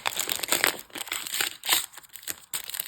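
A crinkly plastic mystery packet of Instax mini paper items is handled and rustled up close, with sharp crackling bursts in quick succession.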